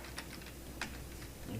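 Soft, quick keystrokes on a computer keyboard, a few scattered taps in a short burst over a steady background hiss, with no talking.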